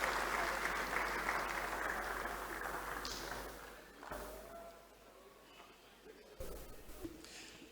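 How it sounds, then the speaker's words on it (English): Audience applause at a Chartered Institute of Directors event as a speaker returns to the stage, loud clapping that fades over several seconds, with a few thuds and shuffles afterward. "can we give him a round of applause as he comes back on stage?"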